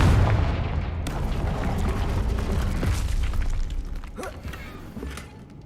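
Confringo fire spell blasts in Hogwarts Legacy, a loud booming explosion with a sharp crack near one second, then rumbling debris and thuds fading over several seconds.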